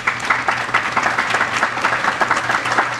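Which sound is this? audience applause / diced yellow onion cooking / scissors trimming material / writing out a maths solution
audience applause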